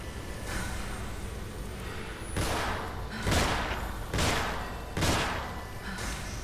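Video game gunfire from The Assignment, heard as a steady background of action noise. Four loud, broad bursts stand out against it, spaced about a second apart, and no one speaks.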